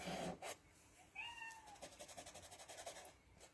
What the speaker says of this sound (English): Here's my cat Calcifer complaining